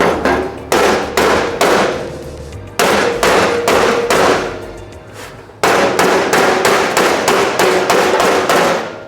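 Repeated heavy hammer blows on a clamped aluminum car body panel ring out close and loud in steady runs, each strike leaving a short metallic ring, with brief pauses between runs.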